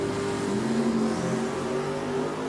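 A drag race car launches down the drag strip at Richmond Dragway during an I-95 Series event. Its engine roars loud and steady throughout, with a sustained rising tone and no voices.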